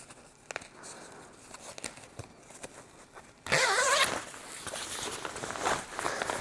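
The mesh liner of a motorcycle coat is zipped out, producing a loud, close, rasping zipper pull of about half a second, preceded by quiet rustling and handling noises and followed by continued fabric movement.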